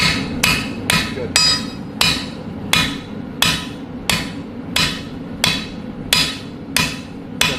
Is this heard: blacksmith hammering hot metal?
yes